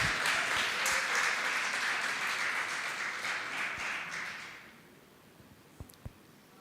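A church congregation applauds during a sermon, a dense wash of clapping that holds steady for several seconds, then fades away, leaving a few scattered taps in near quiet.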